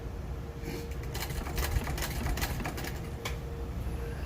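A sewing machine stitches through a Civil War–style valise in a rapid run of mechanical clatter, with short pauses and restarts, close and steady.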